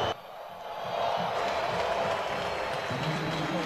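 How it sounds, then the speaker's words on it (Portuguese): A stadium crowd at a Brazilian Série B football match between Sport and Ipatinga reacts to a substitution, with a broad sustained wash of applause and mixed crowd noise, steady and distant. "Alguns vaiam, outros aplaudem"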